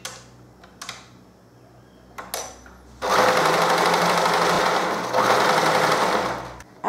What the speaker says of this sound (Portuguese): E eu vou costurar